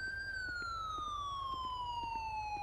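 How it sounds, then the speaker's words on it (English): A police car siren in GTA 5 wails alone, with one long, clear, slowly falling tone that holds steady in loudness throughout. "Can turn my siren off,"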